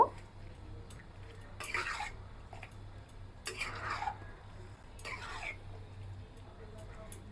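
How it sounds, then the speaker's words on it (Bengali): A spoon stirs vegetable curry with added dal in a pan, in three separate scraping bursts over a low, steady kitchen hum. "ডাল দেওয়া হয়ে গেছে এবার ভালো করে মিশিয়ে দিব"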